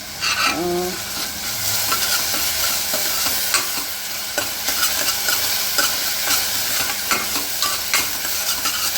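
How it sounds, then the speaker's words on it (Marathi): Onion and kharda, a coarse chilli-garlic mash, sautéing in a pan with a loud, steady close sizzle, broken by frequent spatula scrapes and stirring knocks throughout, with no voices. "आता आपण इथे कांदा परततो आहे आणि त्याच्यासोबतच मी थोडासा इथे खरडा घालते आहे"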